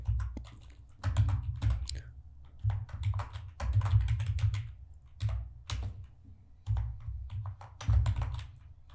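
Fingers typing HTML code on a computer keyboard, bursts of quick close key taps with short pauses between phrases, fairly loud and dry, no voices over it.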